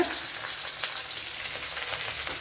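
Chopped shallots with garlic sizzle steadily in a hot pan, a close, continuous frying hiss with faint crackles and no voices.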